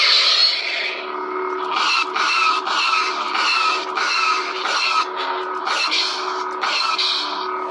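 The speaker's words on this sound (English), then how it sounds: "You can kind of hear how the blaster bolt might get interrupted." A SaberForge SaberCore lightsaber (Prodigal Son) hums steadily while repeated swing swells cut into its blaster bolt effect, rising and falling in a loose rhythm, close and fairly loud with no talking.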